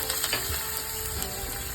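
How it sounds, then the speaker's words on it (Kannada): Mustard seeds splutter in hot oil in a brief burst of crackling and popping, a steady sizzle with sharp little spits, heard up close. "ಈಗ ಸಾಸಿವೆ ಸಿಡಿದಿದೆ, ಜೀರಿಗೆ ಹಾಕ್ತಾ ಇದ್ದೀನಿ"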